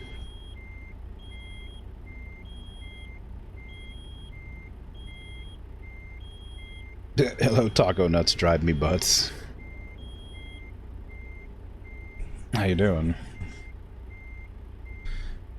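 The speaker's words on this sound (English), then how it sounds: "you'd have to listen to this horrible beeping" Repeating reversing beeps from a truck in American Truck Simulator, evenly spaced tones under a low engine hum, with someone talking over them twice.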